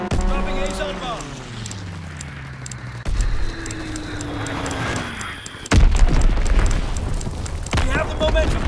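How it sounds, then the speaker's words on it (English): An Azon bomb dropped in an air strike in a video game: a descending whistle, then a heavy booming explosion, with game voices and battle noise around it. "Dropping Azon bomb."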